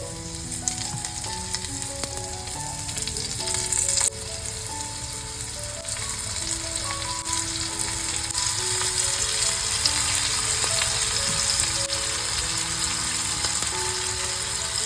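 Rava-coated prawns fry in a pan with a steady, close sizzle and crackle that holds throughout, while faint background music plays underneath.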